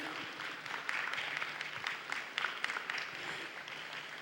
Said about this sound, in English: Clap your hands if you enjoyed that right there.